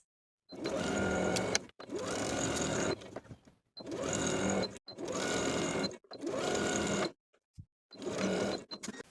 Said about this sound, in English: Sew the skirt from center front to the main bodice piece with a 3/8 inch seam allowance